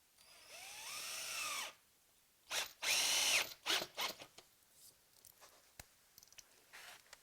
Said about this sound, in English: I'm actually going to screw these ones down just to make sure I've got a really good hold.